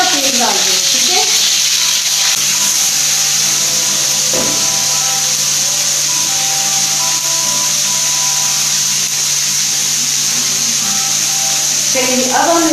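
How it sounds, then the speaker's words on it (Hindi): Garlic ginger paste frying in hot oil with cumin seeds in a pan, a loud, continuous close-up sizzle with faint stirring knocks near the start and end. "अब इसमें मैंने लहसुन अदरक का पेस्ट डाल दिया"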